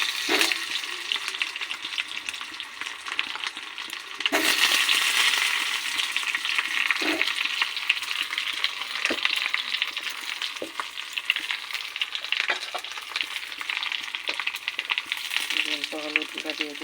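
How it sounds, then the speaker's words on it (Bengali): Boiled potatoes frying in hot oil give a steady, close sizzle throughout, with a few louder spatters and stirring clatters, and no talk. "এখন আমি এই তেলের মধ্যে আলুগুলো ভাজা করে নেব।"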